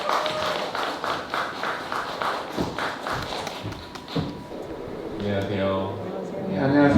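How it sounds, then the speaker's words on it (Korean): An audience at a talk concert claps in a brisk burst of sharp, close hand claps, which thins out as voices take over and a speaker begins talking. "큰 박수 한번 부탁드리겠습니다"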